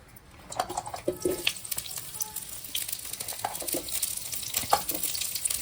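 Sliced onion and green chillies sizzle and crackle in hot oil in a pan, a steady close frying hiss with intermittent stirring scrapes and no talking.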